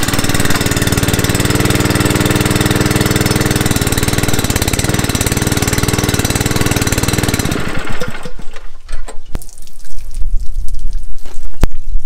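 A Honda water pump engine runs loudly on a trailer in a farm setting, a steady, close droning hum that cuts out partway through, leaving scattered clanks and light splashing.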